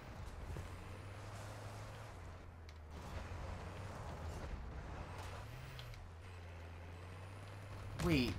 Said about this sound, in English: this guy just got ran over by a car twice